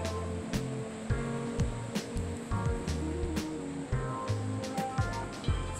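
Ocean waves roll onto a beach in repeated surges with hissing spray, while irregular thumps and bumps sound close by and nearer handling noise rises and falls over the surf.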